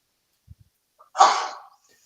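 One sharp, close sneeze from a person, preceded by a couple of soft breathy intakes, then quiet, during a casual online card game session.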